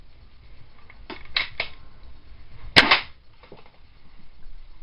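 A Jaru Tech toy James Bond pistol shooting at an indoor target gives a few sharp, snappy cap-gun-like clicks and pops, with one louder crack near the middle and otherwise quiet pauses.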